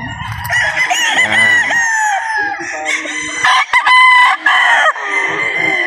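A golden boy gamefowl rooster at a game farm crows loudly and clucks up close, with a voice talking briefly in the background.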